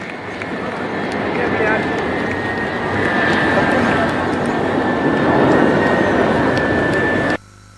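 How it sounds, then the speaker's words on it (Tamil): Indian Air Force Jaguar military jets flying past at the Marina air show in Chennai, a sustained loud roaring rush of jet noise with a steady whine, ending abruptly. "ஜாகுவார் ரக விமானங்கள் வானில் சீறி பாய்ந்தன."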